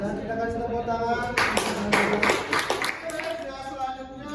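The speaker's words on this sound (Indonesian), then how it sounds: "kita kasih tepuk tangan" A class at an Indonesian university teaching session gives a student, Nabila, a short round of applause; scattered claps rise briefly in the middle under a steady background hum, with a voice present at the start and end.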